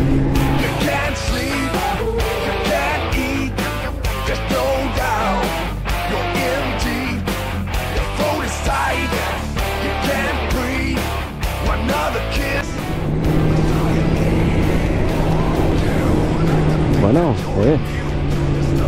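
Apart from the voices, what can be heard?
motorcycle riding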